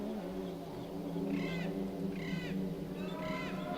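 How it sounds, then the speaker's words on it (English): A cat yowls repeatedly in the background of the Geneforge video game, three drawn-out wavering cries spaced about a second apart over a low droning ambient loop. "there is a cat yowling in the background looping noise here"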